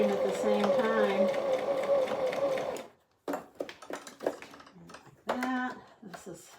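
Sewing machine stitching, fast mechanical chattering for about three seconds that stops, then short bursts of stitching return amid a person talking close by.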